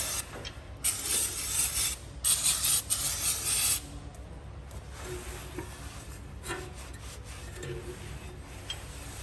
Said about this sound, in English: Now give it a good once over with some brake clean just to get any oils and residue off.